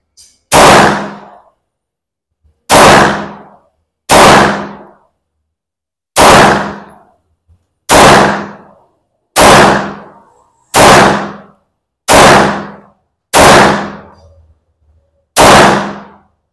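A Sarsilmaz SAR9X pistol is test fired ten times at uneven intervals, each shot a sharp, loud crack with a brief decaying tail and silence in between.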